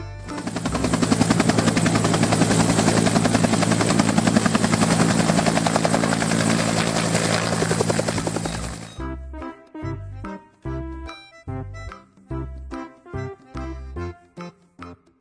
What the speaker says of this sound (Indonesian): Helikopter.